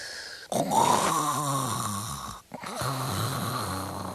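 A man's loud, drawn-out snoring with a rumbling, wavering tone, broken by a brief pause before another long snore.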